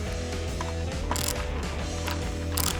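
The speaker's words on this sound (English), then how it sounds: "So now it's just time to tighten it all, get it super tight" A ratchet wrench tightening bolts on a 2024 Toyota Tacoma bumper, quick steady ratcheting clicks with a few louder clanks, close up and unbroken.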